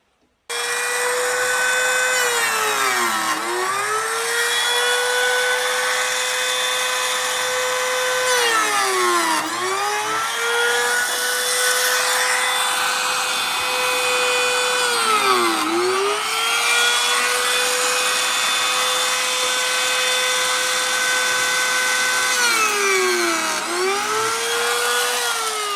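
A power tool cuts notches into cedar deck boards for hidden fasteners, a loud, close, steady high whine that dips in pitch in four regular bogging cuts as it bites into the wood.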